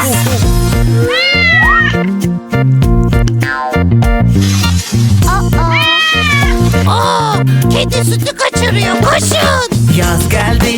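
A Turkish children's song with music throughout, its singing voice imitating a cat's meows in rising, gliding calls repeated over a steady backing.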